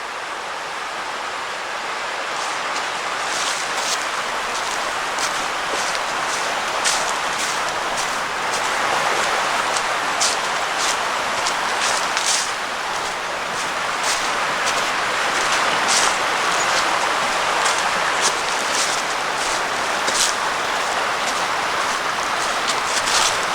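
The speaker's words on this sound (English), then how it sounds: "you can fall asleep to the sound of the creek" A creek flows steadily alongside a hiking trail past houses, a dense, continuous rush of water with fine splashing texture, close and unbroken throughout.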